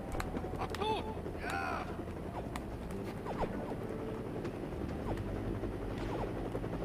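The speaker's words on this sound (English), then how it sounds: "Am I supposed to be shooting that helicopter down?" A helicopter in the video game No One Lives Forever drones steadily throughout, with a constant rotor chop under gunfire and other game effects.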